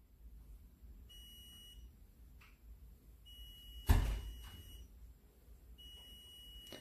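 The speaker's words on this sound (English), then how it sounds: "When you put your hand, the buzzer should be ringing." An Arduino social distancing device with a buzzer beeps when a hand comes near its sensor: three steady bursts of a high electronic tone repeat about every two seconds, with one sharp thump in between and no talking.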